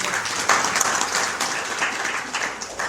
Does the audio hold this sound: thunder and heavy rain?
no